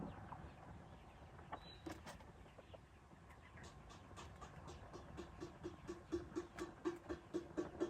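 Ducks and chickens call in a village yard in the afternoon: faint, distant clucks that build into a quick rhythmic run toward the end.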